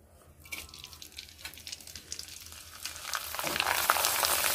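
Leftover cooked rice frying in boiling hot oil makes a close, crackling sizzle that builds steadily louder and denser toward the end, with no talking.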